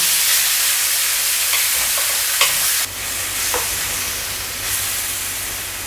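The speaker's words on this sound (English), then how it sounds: "heat up your pan, heat up your oil. So when you think it's hot enough, in with your beef." Beef frying in hot oil in a pan for Chinese beef curry, a loud continuous sizzle with occasional stirring clatter and brief hissing bursts, close by and without talk.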